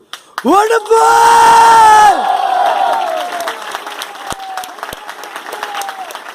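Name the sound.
audience shouting and cheering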